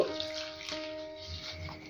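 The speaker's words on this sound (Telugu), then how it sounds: "ఇందులోకి వాటర్ యాడ్ చేసి ఆకంతా శుభ్రంగా కడగాలి" Drumstick leaves are swished and rinsed in a vessel of water, giving a short, close sloshing wash with soft splashy texture and no voices.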